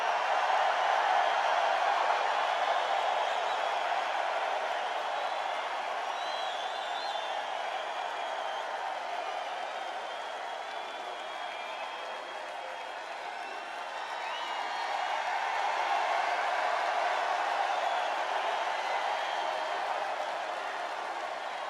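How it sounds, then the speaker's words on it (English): A large rally crowd at a presidential event in Manchester, New Hampshire, cheering and applauding in a steady, dense wash of sound that swells again toward the end, heard at a distance with no clear talk over it. "The people can hear the crowd."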